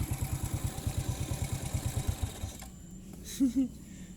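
A motorcycle engine idles close by with a quick, even putter for a couple of seconds, then cuts off, leaving a quiet background with a brief faint sound afterward.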